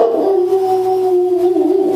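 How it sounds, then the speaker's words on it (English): A dog howls loudly and close at the mailman, one sustained, wavering, mournful howl that fills the whole moment without pause and carries no other sound over it. "my dog yelling at the mailman"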